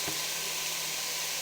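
Sliced zucchini, carrot and celery hit a hot pan with garlic and onion, giving a steady, close, even sizzle and hiss that carries on without a break and with no talking.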